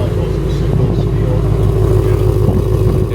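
A 2024 Mustang GT with a full exhaust in quiet mode idles with a loud, steady, deep rumble that stays even throughout and runs alone, with no speech over it.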